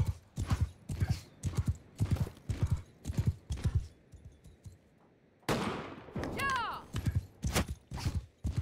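Rhythmic horse hooves clop steadily at a gallop, pausing briefly, then resume amid a burst of noise and a short whinny-like cry; game audio, no talking.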